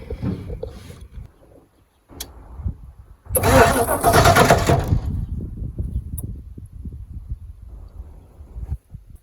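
A 1995 Ford F-350 dually pickup with a 5.8-litre V8, not run in years, cranks briefly, then catches in a loud close burst and settles into a rough, uneven idle with some clanking.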